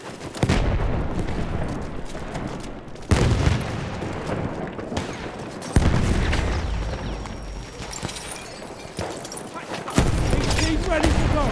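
In a Battlefield 1 multiplayer match on the Amiens map, a grenade explodes amid gunfire, with repeated heavy blasts and crackling shots recurring every few seconds while voices shout over the battle.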